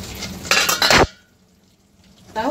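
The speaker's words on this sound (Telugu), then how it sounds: "ఈ పొంగల్లో వేసుకోవాలి ఈ పోపు అంతా" A spice tempering is tipped from a small pan into pongal, with a loud burst of metal pan and spoon clatter that cuts off into near silence, then another short scrape near the end.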